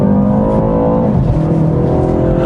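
A 2023 BMW 330i M Sport (G20 LCI) accelerates hard, its engine a loud, steady drone with harmonics rising smoothly throughout the run, heard from inside with no talking.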